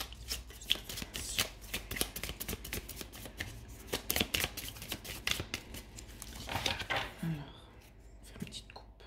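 A deck of cards is shuffled and cut for a card reading, producing close, crisp riffles and soft slaps in irregular bursts, with quiet whispered speech over them.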